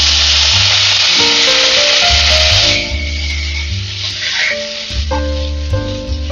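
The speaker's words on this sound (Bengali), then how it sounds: "তো যে অবশিষ্ট তেলটা রয়েছে, তো আমি এর মধ্যে দিয়ে দেবো যে আলুগুলো আমি কেটে রেখেছিলাম" Cut potato pieces drop into leftover hot oil in a pan for an alu paneer dish and sizzle loudly, a steady close frying hiss with stirring scrapes that eases slightly after a few seconds.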